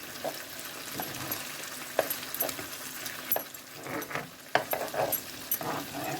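Stuffed sweet peppers simmer in a pan of sauce, with a soft steady sizzle and bubbling broken by occasional sharp clinks and scrapes close by.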